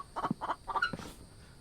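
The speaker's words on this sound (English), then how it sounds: "Sounds like I got chickens all over the freaking place now." Chickens in the video game The Infected give a quick run of four or five close, clear clucks, then go quiet, with no talking over them.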